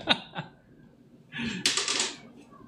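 A clicky mechanical keyboard with Cherry MX Blue switches: two sharp, separate key clicks, a short pause, then a quick burst of rapid clattering keystrokes close by.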